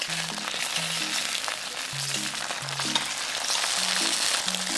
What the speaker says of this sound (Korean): 예열한 팬에 기름을 둘러쓰고 스팸 두부, 스팸 두부, 가지런히 올려주세요.